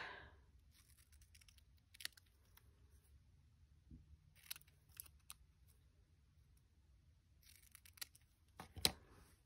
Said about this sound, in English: Cut my nails off again.